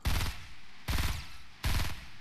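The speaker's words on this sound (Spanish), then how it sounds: "este lado escuchamos tiros" Three sharp, loud gunshot bursts from Fortnite Battle Royale ring out in quick succession, each with a short decaying tail, with no one talking.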